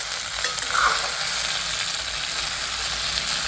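Tomatoes fry with chicken and sesame in a hot pan, giving a steady, close, loud sizzle with a brief stir near the start and no talking.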